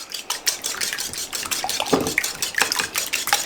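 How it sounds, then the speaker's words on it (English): Eggs seasoned with pepper and garlic are whisked briskly in a bowl, giving a steady run of rapid, close clinking and scraping strokes with a wet, sloshing quality and no talking. "So we're going to scramble these up."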